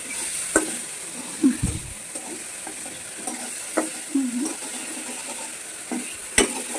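Potatoes fry and sizzle in a pan under a steady soft hiss, with periodic scraping clinks of a spatula stirring them, close by with no voices.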